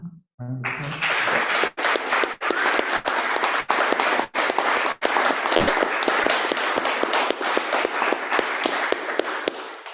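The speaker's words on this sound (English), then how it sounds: "can we have a round of applause also for the film of her late husband and everyone who was involved in making that happen? Round of applause." A large audience claps steadily and densely after a poetry reading, loud sustained applause that starts abruptly and carries on for the full stretch without talk.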